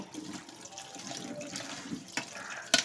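Running tap water washes vegetables in a home kitchen sink, a steady close splashing stream with a couple of sharper clinks near the end.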